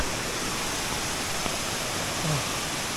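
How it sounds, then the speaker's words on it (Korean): A dense, steady roar of a waterfall cascading from above, close and unbroken, with a brief low murmur partway through, on a jungle trek in Chiang Rai, Thailand. "저 위에서 이렇게 물이 떨어지네요."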